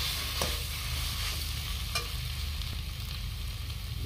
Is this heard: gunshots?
no